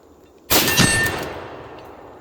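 A single sharp rifle shot from a Savage 99 lever-action rifle fired at steel targets outdoors, loud and close, followed by a ringing decay that fades over about a second and a half.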